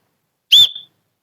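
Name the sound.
whistle on a children's umbrella blowing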